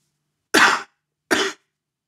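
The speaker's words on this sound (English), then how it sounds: "coughing can create a quick jet of air to clear the phlegm quickly" Two short, forceful coughs, each a sharp burst of air separated by a brief pause, close to the listener with silence around them.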